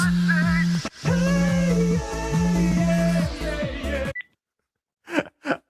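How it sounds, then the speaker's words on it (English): A phone ringtone plays as a loud, repeating melodic electronic tune with a steady pulsing beat, then cuts off abruptly, followed by near silence and two short bursts of sound. "I appreciate the ringtone there."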